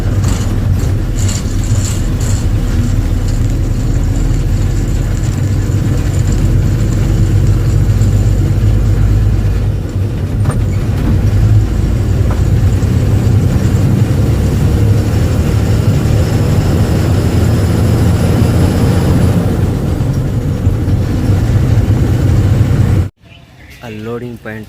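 Vehicles passing on a road near a loading point bring a loud, continuous low engine rumble and road roar that goes on for most of the stretch, then cuts out abruptly near the end.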